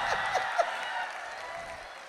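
A live audience at a patriotic poetry recital claps, sparse and fading rather than a full ovation, with a few sharper individual claps at the start.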